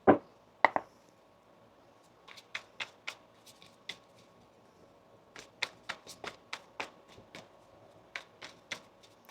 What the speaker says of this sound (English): We're going to get one more shuffle here for you, Taurus